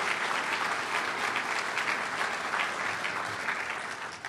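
A round of applause from a business leaders forum audience, a loud, dense and sustained clapping from many people that stays even before easing slightly at the end.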